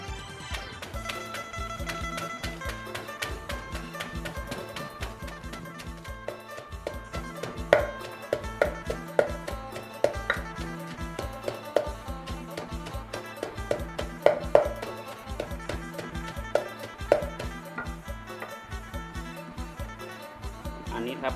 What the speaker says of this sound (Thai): ทีนี้ก็โขลกนะครับ